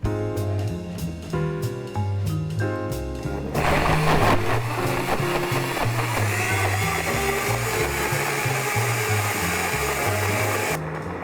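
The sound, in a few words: blender blending whey protein ice cream mix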